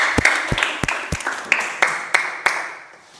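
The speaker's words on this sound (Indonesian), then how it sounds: "Kita kasih aplaus dulu untuk kelompok 1" Audience applause for a group presentation at an Indonesian religious affairs office performance review: a short burst of sharp, separate claps, about eight distinct slaps in a loose rhythm, close and moderately loud, with no talking.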